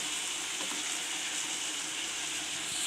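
Chopped snake gourd and onions sizzle steadily in a hot pan, a loud, even frying hiss with no break and no voices.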